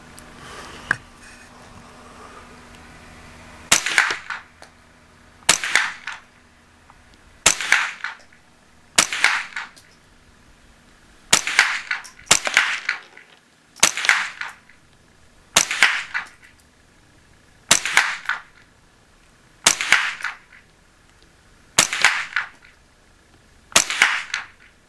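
Shots from a .22 firearm at a shooting range ring out singly and fairly evenly spaced, about a dozen sharp, loud cracks each trailing off quickly, with quiet between them.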